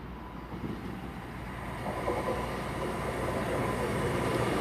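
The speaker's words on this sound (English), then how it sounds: "Coming in now is the 1509 cross-country service to Manchester Piccadilly from Bristol Temple Meads." A CrossCountry passenger train rolls into Bristol Parkway station, a broad rumble that builds steadily and grows louder as it draws near, with no talk over it.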